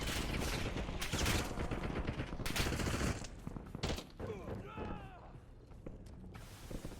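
Gunfire in the Call of Duty Warzone video game, bursts of rapid shots and loud bangs in the first few seconds, then quieter mechanical clicks and movement sounds, fairly faint overall.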